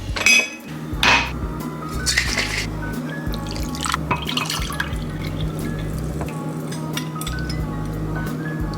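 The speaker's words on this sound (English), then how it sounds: "2 tablespoons of apple cider vinegar mixed with some water." Water pouring and dripping as two tablespoons of apple cider vinegar are mixed with water, with light clinks of a glass and cutlery close by. A steady low hum runs underneath, and no one speaks.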